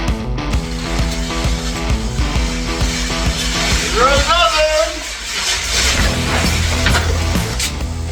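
A golf cart fitted with Triumph Spitfire rims starts up and rolls forward off the back of a trailer onto ramps, its engine a steady low drone with a brief mechanical chirping midway, while people talk over it.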